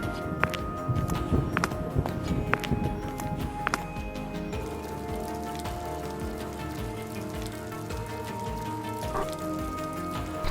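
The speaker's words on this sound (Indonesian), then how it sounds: "Pas banget di luar lagi hujan gede" Heavy rain pours outside, a dense, steady wash of drops with sharp close clicks and taps in the first few seconds, then a smoother continuous hiss.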